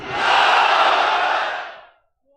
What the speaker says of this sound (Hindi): पहला नारा सब मिलके, हर मुसलमान का नारा, नारे तकबीर।